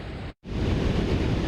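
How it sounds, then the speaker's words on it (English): Surf crashes on Manhattan Beach on a dark, foggy night, a steady broad roar of breaking waves that cuts out for a split second, then returns loud and continuous. "We can hear those waves crashing across the beach"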